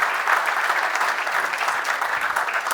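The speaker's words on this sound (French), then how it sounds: "On peut les applaudir bien fort." Steady, warm applause from an audience honouring young apprentices receiving diplomas of honour at a crafts awards ceremony, continuous and fairly close throughout.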